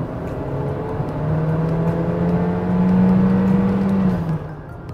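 Engine of a Honda CR-V heard from inside while driving, a steady loud drone with a low humming tone that swells as the car pulls, sustained throughout with no talking.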